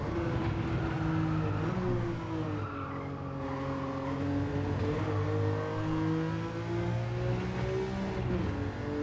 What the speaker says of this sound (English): Love the raspy sound of the engine on this little Dino.